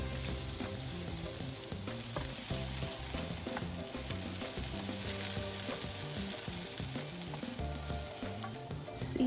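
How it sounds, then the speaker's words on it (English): Vegetables sauté in melted bacon fat in a pan, making a continuous near crackling sizzle with scattered pops and soft stirring, with no one talking. "After the bacon fat has melted, toss in all of your veggies and saute."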